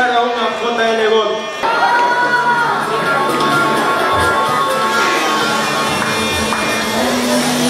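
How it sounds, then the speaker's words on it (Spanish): A crowd cheers and shouts, children's voices among it, for the robot Baymax at a timed line-follower robot competition, a loud continuous wash of voices throughout with a brief tonal announcement at the start. "Un aplauso, por favor, para Baymax."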